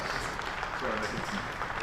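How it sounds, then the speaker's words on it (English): A cricket crowd at a Hampshire v Surrey County Championship match applauds James Vince reaching fifty, the clapping faint and distant, with a commentator talking over it. "Kind applause, 50 for 2."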